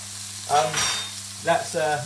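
Bacon sizzles in a frying pan while a burger is made, with a steady crackle and two louder bursts of spitting fat, close and clear with no talking.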